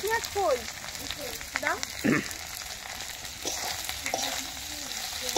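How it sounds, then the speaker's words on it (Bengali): Dried fish frying in a pan over a wood fire on a winter evening: a soft, steady sizzle with occasional stirring scrapes, faint and close, while voices chatter in the background. "কাঠের জালে বেশিক্ষণ লাগবে না, একটু মাছটা ভাজা হয়ে গেছে, তুলে নেবো।"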